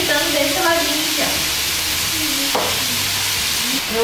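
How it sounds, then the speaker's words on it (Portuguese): Rump steak and sliced red and white onion sizzle steadily in a frying pan, a loud continuous crackle with stirring and scraping of the pan, and brief speech-like voice fragments mixed in. "Enquanto frita desse lado, eu já vou acrescentar o quê? A cebola pra ir fritando desse ladinho aqui"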